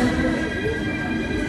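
A passenger train rumbles at a station on a Seloo-to-Mumbai journey, a steady low mechanical drone with a faint whine over it, close and continuous.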